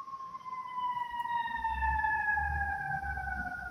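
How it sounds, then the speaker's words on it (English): An emergency vehicle siren picked up over a home video call, a wailing tone sliding steadily downward in pitch, fairly faint and distant beneath low background rumble. "A siren at Cassia's house"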